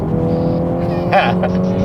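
Tuned MINI Cooper with a BOOTMOD3 tune accelerating hard: a steady, loud engine drone with rising tonal whine, heard from inside the car, with a short higher squeal or chirp partway through.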